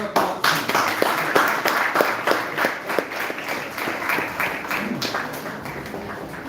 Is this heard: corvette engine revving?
no